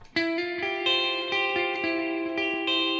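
Clean electric guitar chords strummed in a steady rhythm through a Madsen Amplification Somnium GE preamp boost, ringing with a touch of reverb, close and fairly loud.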